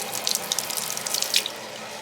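Hot water runs steadily from a sink tap, a continuous splashing hiss with small bubbly spatters, close by and alone.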